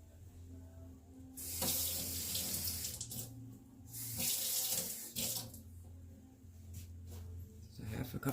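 Tap water runs into a sink to measure half a cup for a raspberry swirl cheesecake, gushing in two long bursts with brief pauses and a short final splash, fairly close and steady.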